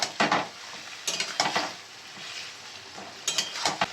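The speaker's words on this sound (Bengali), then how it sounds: "ভালো করে এবার আমি নেড়ে নিচ্ছি" Boiled bottle gourd greens with turmeric are stirred in oil in a pan. Three bursts of scraping and clattering from the spoon rise over a soft sizzle, and there is no talking.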